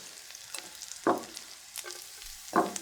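Garlic hits a hot pan while beef and sinqua are stir-fried, producing a soft steady sizzle broken by a few sharp clattering stirs of the spatula, with no talk.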